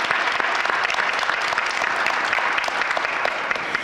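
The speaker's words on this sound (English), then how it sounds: "I want to give us a hearty round of applause to our Public Safety Director, O'Hara." Steady, dense applause from a crowd, clapping continuously and fairly loud throughout with no break.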